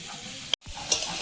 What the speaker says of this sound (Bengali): একদম আঁচ কমিয়ে দিয়ে চিচিঙ্গাটা ভেজে নিচ্ছি